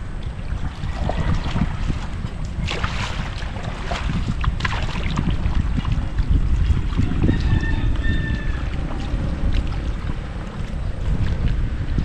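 A boat motor runs steadily on open water during a tilapia fishing trip, a constant loud drone blended with wind buffeting and water wash, with a brief faint tonal whine partway through and no talking.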